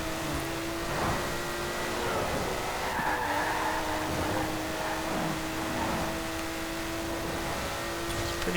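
A 1960 Porsche 356 Outlaw RSR from Emory Motorsport, heavily upgraded, roars at over 250 mph in Forza, its engine drone steady and sustained with a whining tone and rushing wind noise throughout.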